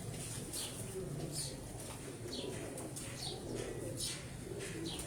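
Pigeons coo in soft, repeated low calls, with wing flaps and light chirps mixed in against a steady background hum, fairly close and moderately quiet.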